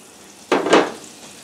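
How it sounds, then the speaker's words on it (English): A sudden burst of sizzling as steak hits a hot pan, loud hiss swelling then fading over about half a second, with no talking. "when you put the steak in it, you want it to like sizzle"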